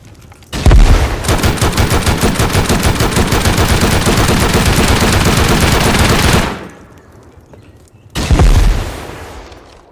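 Long sustained bursts of automatic gunfire in the video game Rust, very loud and close, firing rapidly for several seconds, stopping, then resuming in a second short burst, with no voices over it.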